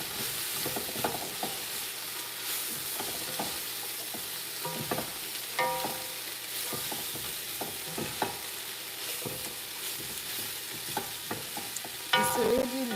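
Diced, pre-boiled chicken gizzard sizzles in a pan while being stirred, with scraping utensil strokes and soft clatter over a constant hiss, close and fairly quiet, no talking.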